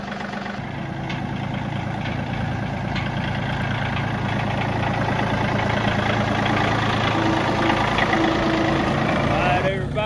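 A tractor engine idles steadily at close range with a continuous low rumble, while a trailer is being hooked up to it.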